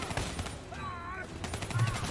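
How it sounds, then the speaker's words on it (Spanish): Gunfire in Call of Duty: Black Ops 3, reportedly a shotgun, heard as a loud burst of shots layered with game noise, with a voice speaking over part of it. "¿Has disparado uno con escopeta desde ahí?"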